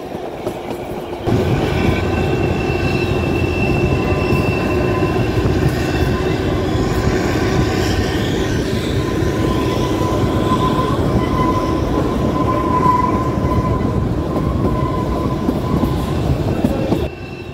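The Kalka to Shimla narrow-gauge toy train rolls along its tracks with a loud, continuous rumble and clatter, with thin wheel squeal and faint voices in the background.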